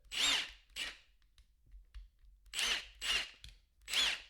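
A Metabo HPT cordless impact wrench whirs in short bursts, five or six quick spins separated by brief pauses, close and fairly loud.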